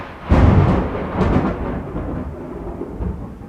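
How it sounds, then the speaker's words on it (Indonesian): Thunder booms during a storm, a loud sudden crack that rolls into a long, deep rumble fading over a few seconds, with a smaller second surge along the way. "Cuaca lagi kurang, ini lagi banyak petir."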